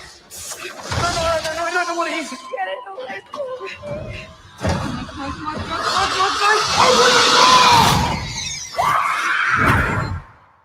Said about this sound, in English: That's a good scream.